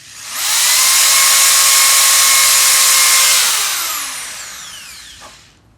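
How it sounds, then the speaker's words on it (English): A power drill fitted with a 5/16 bit bores holes for an RV dump hose holder, a loud steady high whine for about three seconds that winds down as the trigger releases, close up with no talking. "all I gotta do is drill a couple of holes"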